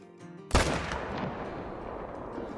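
A single sharp rifle shot cracks out loud and close in a hunting video game, its boom trailing off into a long, rolling echo over quiet background ambience.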